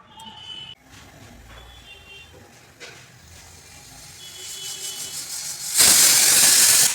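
A pressure cooker boiling potatoes lets out a loud, sustained steam whistle near the end, a bright hiss that rises sharply over quieter kitchen background noise.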